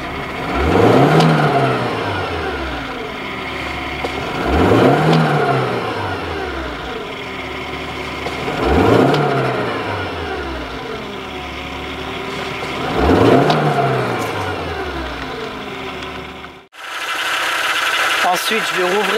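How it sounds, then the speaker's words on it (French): A BMW E36 engine is revved four times to roughly 4500–5000 rpm. Each rise swells loud and falls back to idle at an even pace before the sound cuts off abruptly near the end. "Je vais démarrer la voiture. Et je vais accélérer 3-4 fois entre 4500 et 5000 tours minute"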